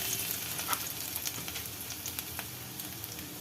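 Steady sizzling of garlic frying in hot oil, a constant crackling hiss with small pops throughout and no voices.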